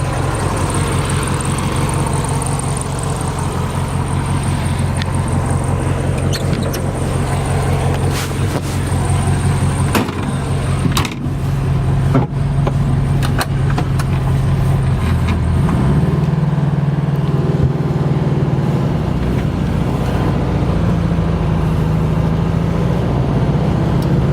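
A Volkswagen Beetle convertible with a 1600cc engine runs loudly and steadily from close by, its low engine drone shifting in tone partway through as it drives off.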